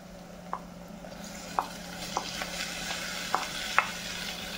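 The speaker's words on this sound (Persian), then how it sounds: "خب من این گوشتا رو با پیاز تفت میدم" Meat pieces with onion sautéing in a pan, a steady soft sizzle broken by a handful of sharp spatula clicks spaced across the moment, close and fairly quiet, with no talking.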